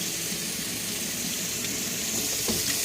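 Cold water pours steadily from a tap into a sink, an even close hiss with no one talking.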